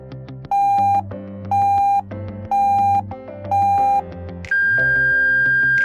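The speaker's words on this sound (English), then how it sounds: "And now, a few beeps leading up to the end of the compression cycle." A CPR timer app gives four short electronic beeps in an even rhythm over a looping synthetic backing, then a longer, higher-pitched tone marking the end of the compression cycle that holds to the end.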